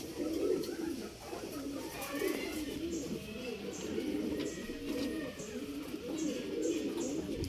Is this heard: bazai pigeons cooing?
yes